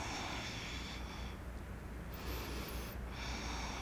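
Slow, steady breaths during a yoga pose, close and soft: long inhales and exhales with a brief lull between, under a constant airy background hiss.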